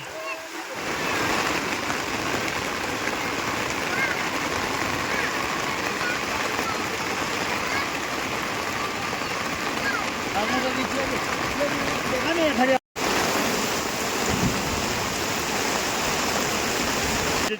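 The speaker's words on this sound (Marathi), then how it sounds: "बाहेर पडतोय पाऊस" Heavy rain pours outside during an all-night downpour that is flooding the fields, a dense, steady hiss and patter that runs close and unbroken for the whole stretch except one brief cut.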